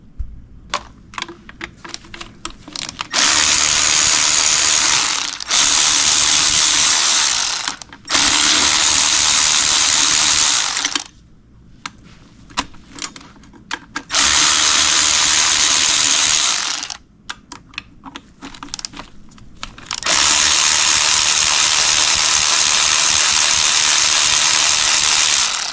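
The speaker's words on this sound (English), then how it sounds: "So now I'm going to remove the first pedestal bolt." Ratchet clicking in repeated bursts while loosening a turbo pedestal bolt on a 3.0L Sprinter van, loud and close, with brief quiet pauses between runs of rapid pawl clicks.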